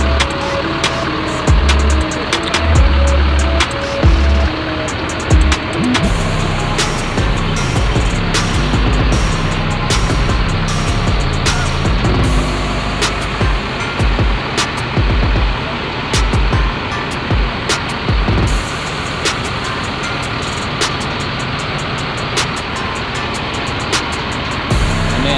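Tour buses such as PO Haryanto line up in the rain at the Kadilangu pilgrimage site in Demak. Continuous rain hiss and low idling engine rumble run throughout, with sharp drip-like ticks scattered across it.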